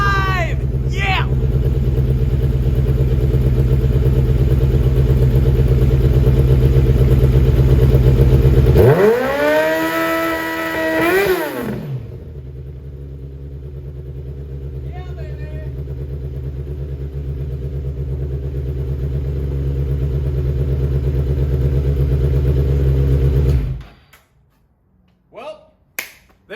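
Rush SR race car engine running steadily after a full motor swap, a loud continuous drone with a brief rev rising and falling partway through, then cutting off near the end.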